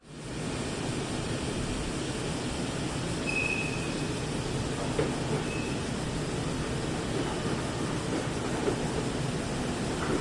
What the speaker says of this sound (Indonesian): jadi naik naik kereta dulu nih kita ya